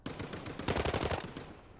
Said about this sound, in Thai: มีเสียงปืนชัดเจนโอ้โหแม่คุณอัตราการยิงโคตรเร็ว